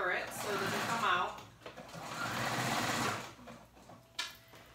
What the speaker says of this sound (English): I'm just using a zigzag stitch to secure it so it doesn't come out.